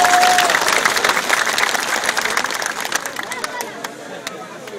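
A crowd at a political rally applauds loudly, with dense, rapid clapping that starts strong, fades gradually, and has voices mixed in underneath.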